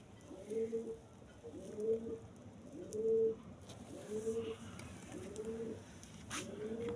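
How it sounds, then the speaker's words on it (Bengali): A Rajshahi pigeon coos in a steady repeating rhythm, about six soft throaty calls spaced evenly, close by with faint background noise. "রাজশাহী কবুতর চেনার সহজ একটা উপায়, অসাধারণ ডাক দিবে"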